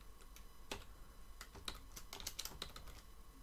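Keys tapped on a computer keyboard while entering code in a Blender Python script, a quiet scatter of irregular clicks and short bursts with no talk.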